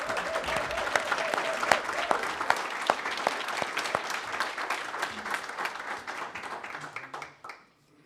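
A school board meeting audience gives a final round of applause, dense steady clapping that holds for several seconds before thinning out and stopping near the end.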